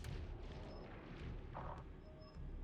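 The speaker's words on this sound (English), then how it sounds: "Can we get a clap for the explosion?" Spaceship explosion in the space strategy game Homeworld 3, a quiet rumbling boom with crackling bursts spread over a few seconds, with no speech.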